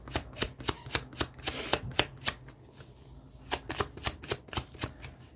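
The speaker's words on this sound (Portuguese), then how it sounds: "Vamos baralhar mais um pouco." A deck of playing cards being shuffled up close, a run of sharp riffling bursts in two quick bursts separated by a short pause, with no voices.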